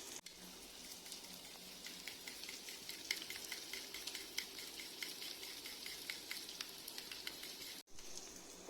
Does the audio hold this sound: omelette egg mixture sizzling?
yes